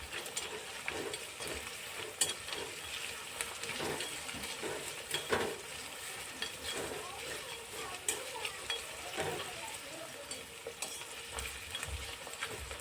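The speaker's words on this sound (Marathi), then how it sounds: "आता कांदा चांगला होऊ देऊया" Onion fries in hot oil with whole spices for vegetable pulav, giving a steady, close sizzle under repeated stirring scrapes and occasional utensil knocks across the whole stretch.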